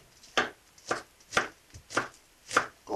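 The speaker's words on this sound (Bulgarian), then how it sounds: "Първо си нарязваме лука и магданоза на ситничко." A knife finely chops onion and parsley on a board in six evenly spaced, crisp strokes, close and alone with no talk.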